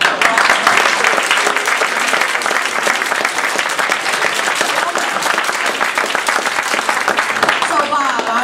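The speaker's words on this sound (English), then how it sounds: "Let's just give them a round of applause." Loud, close applause from an audience at a Toastmasters district conference table topics contest, a dense and continuous roar of many hands clapping. Voices and cheers are faintly mixed in.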